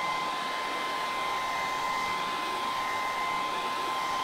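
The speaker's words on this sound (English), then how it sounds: "I am just drying that napkin off on the edge here." A hair dryer blows steadily on a decoupage napkin laid on a wooden crate, giving a constant loud whine and rush of air with no pauses.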